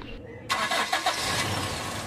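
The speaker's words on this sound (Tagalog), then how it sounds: "pwede ko nang i-start itong makina" A Toyota Revo engine with a high idle cranks and catches at about half a second, then keeps running with a steady, fairly loud rumble close by.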